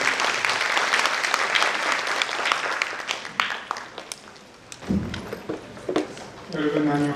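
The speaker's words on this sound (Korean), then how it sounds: "큰 박수로 환영해 주시기 바랍니다." Enthusiastic applause from the audience at an international forum on civic education, welcoming a speaker, dense clapping that fades out midway, followed by a voice speaking.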